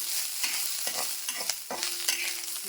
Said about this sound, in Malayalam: നമ്മൾ ഈ കറിവേപ്പില ഇതിലേക്ക് വറുത്ത് കോരി കൊടുക്കുക.